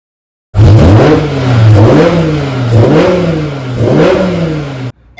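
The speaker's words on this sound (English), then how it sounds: "that's how my car sounds with the stock filter" A powerful V10 car engine with a stock air filter revs repeatedly, rising and falling in several loud, throaty surges with a mechanical whine, close up and with no talking.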